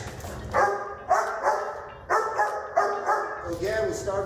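A worked-up dog barks excitedly during competition obedience training, with a run of loud, close, high-pitched barks and yips in quick bursts.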